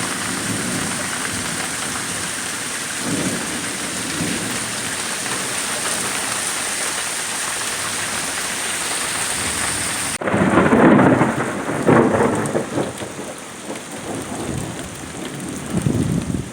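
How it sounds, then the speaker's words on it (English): Steady heavy rain pours throughout a thunderstorm, with a loud, close rumble of thunder breaking in partway through and rolling on over the downpour. "Man, I love storms."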